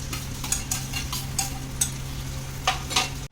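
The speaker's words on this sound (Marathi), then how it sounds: "आपण ह्याच्यामध्ये कांदा परतून घ्यायचा आहे तेल थोडं तापून घेतलंय" Onion sautéing in heated oil in a pan, with a steady sizzle and several sharp stirring scrapes at a fairly even rhythm, close and clear, no talk.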